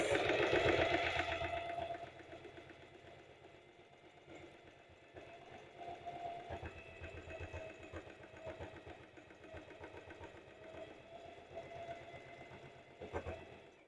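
A domestic sewing machine runs a zigzag buttonhole stitch at a 1.5 stitch setting on a lace bra, giving a steady, close mechanical whir with rapid needle ticking after a brief louder start, with no voices.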